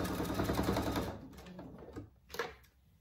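Sewing machine stitching a dog collar, a rapid mechanical rattle of the needle running close and steady for about a second, then slowing into a few separate clacks as it starts and back-stitches.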